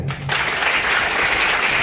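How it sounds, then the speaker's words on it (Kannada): A crowd at a school gathering applauds a student: dense, continuous clapping starts abruptly and holds steady and fairly loud to the end. "ಅವ್ರಿಗೊಂದು ಚಪ್ಪಾಳೆ"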